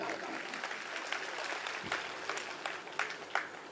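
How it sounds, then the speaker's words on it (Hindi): Listeners at a kavi sammelan, a Hindi poetry recitation gathering, break into sustained applause, a dense wash of clapping with a few sharper claps standing out near the microphone. "आप लोगों की तालियां एक बार उठे, मैं निवेदन करना चाहता हूं।"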